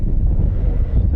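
Loud, low rumbling wind buffeting the microphone at an RC airfield during a large model plane's first flight, steady and close throughout.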